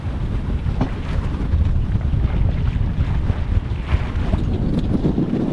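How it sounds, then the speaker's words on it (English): A sailboat beating upwind in easterly monsoon trade winds off Thailand, with steady low wind rumble against the microphone and rushing water along the hull, continuous with no talking. "we're leaving in the monsoonal easterly trades, so it's a bit more upwind sort of sailing."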